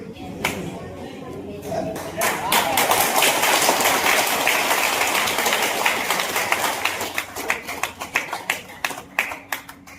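An audience claps together in a hall during a talk on habits for becoming rich. Applause builds quickly into a dense, steady wash of hands, then thins toward the end into scattered individual claps.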